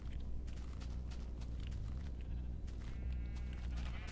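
Sheep bleating inside a barn-style sheep farm in a blocky sandbox video game, soft repeated bleats over a steady low background hum, fairly faint throughout.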